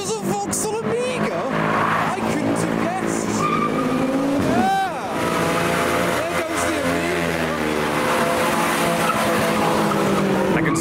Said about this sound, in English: Someone's doing a burnout over here.